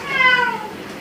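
A Bengal cat gives a single clear, fairly loud meow that rises and then trails off, close by and alone.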